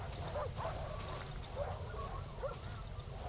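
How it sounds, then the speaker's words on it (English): Several dogs bark and yip in Darkwood, a distant, faint scattering of short barks over a steady low ambient drone. "I hear dogs here. Lots of dogs."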